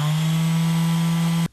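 Bosch GSS 230 or GSS 280 AVE Professional orbital sander running at full speed, a steady loud motor hum with a fixed drone that holds alone for over a second and then cuts off abruptly.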